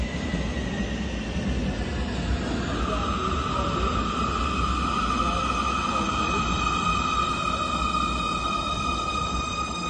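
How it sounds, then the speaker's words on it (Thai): A train pulls into a Munich station in the evening, a steady rolling rumble with rising wheel and brake squeal, heard close and continuous throughout with no talking. "รถไฟมาแล้วค่ะ"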